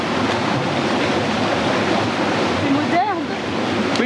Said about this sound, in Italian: l'acqua che passa qui in questo canale è dal 1700